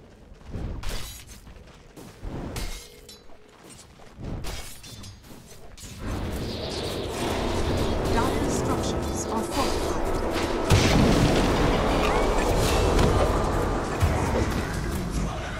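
Tower under attack in Dota 2, a dense stretch of game combat with crashing impacts, booms and whooshing effects, quieter and sparse at first, then a loud continuous barrage from about six seconds on.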